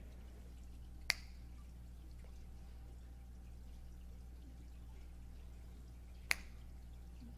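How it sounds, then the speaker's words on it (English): Two crisp finger snaps about five seconds apart ring out faintly in a quiet room, each a single sharp click over a low steady hum. "I'm going to snap my fingers"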